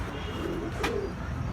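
A pet pigeon on a rooftop gives a single soft, low coo close by over a steady background hum.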